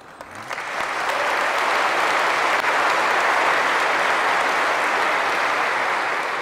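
A lecture audience breaks into applause for the speaker, building quickly from a few claps into a loud, dense, sustained wash of clapping that holds steady to the end.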